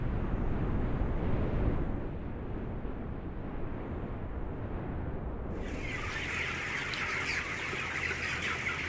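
Broiler chickens clucking on a poultry farm, a dense continuous flock murmur with a steady hum of farm machinery, the texture brightening partway through as more high chatter joins in.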